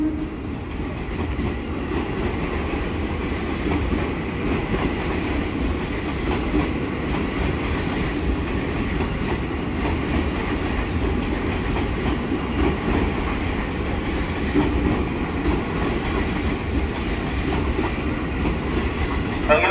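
Steady rumble of a KRL Commuter Line electric train with 12 cars at Bogor station, Indonesia, a low continuous drone and faint rhythmic clatter, sustained throughout at moderate loudness.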